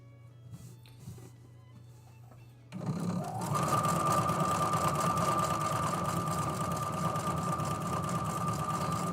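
A sewing machine runs a long basting stitch, starting after a quiet lead-in and then holding a steady, loud, fast motor whir with rapid needle chatter that continues alone to the end.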